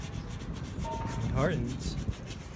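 Hand sanding on an aluminum rim with 80-grit sandpaper gives a steady, close scratchy rubbing with a few brief louder strokes, while a voice briefly talks over it.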